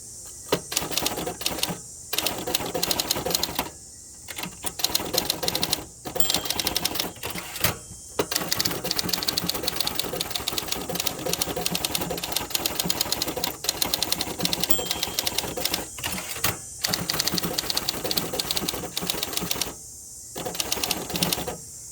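Rapid, continuous keystrokes clatter from a 1960 Olympia SG-1 manual typewriter used outdoors, with brief pauses and carriage returns breaking the steady mechanical typing, close and loud.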